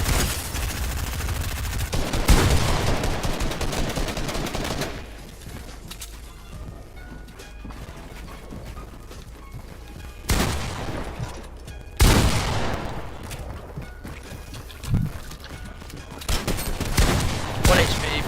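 Gunfire in a shooter video game, with bursts of rapid shots and louder cracks between quieter stretches, while players talk over it.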